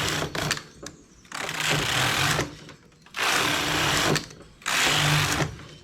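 Domestic knitting machine carriage running back and forth across rows of English rib stitch, giving loud, steady mechanical whirring bursts separated by short pauses, close up with no talk.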